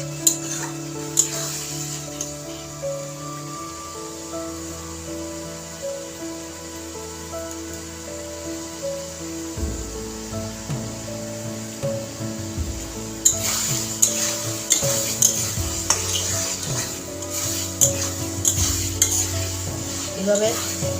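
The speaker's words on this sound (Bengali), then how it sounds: "মশলাটাকে কষিয়ে নেব।" Masala for a vegetarian chana paneer is sautéed over a raised flame. Steady sizzling runs throughout, with a spoon repeatedly scraping and clinking against the pot, and the stirring grows busier and louder in the second half.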